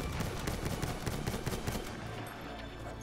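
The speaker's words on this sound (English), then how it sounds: "There's gunfire everywhere and I have 17 health" Dense, rapid gunfire crackles nonstop in a Battlefield 1 multiplayer battle, overlapping shots and bursts packed close together at steady loudness with no talking.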